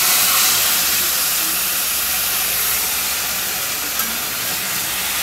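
A mustard-coated egg mixture sizzles loudly in hot oil with black cumin in a wok, a steady, dense hiss that stays even throughout with no break.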